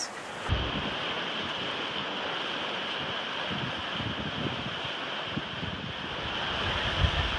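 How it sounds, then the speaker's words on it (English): Strong wind gusting to 23 knots roars steadily over the open Atlantic at sea, with rushing gusts buffeting the microphone and waves surging underneath. "The wind is picking up. It's now gusting 23 knots"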